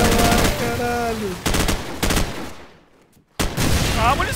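Rapid bursts of video game gunfire in Call of Duty Frontlines, several loud volleys separated by short gaps and a brief near-silent pause, with a voice briefly heard between shots.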